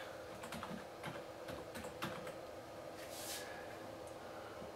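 Quiet, close typing on a computer keyboard while setting up a Commodore Amiga Mini, with irregular clusters of soft key clicks over a low steady background hum.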